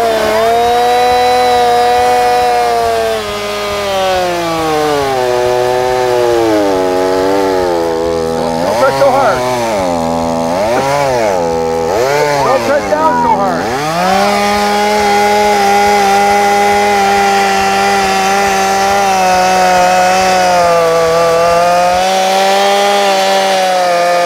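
An ECHO chainsaw roars loudly and close at a lumberjack session, holding a steady drone before revving up and down sharply while cutting into wood, then settling back to a high, sustained whine.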